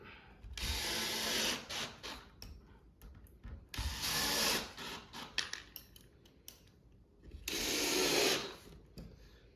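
A power driver sets screws into pre-drilled holes in a wooden farmhouse shoe bench, making three short, close whirring bursts separated by clicks and handling noise.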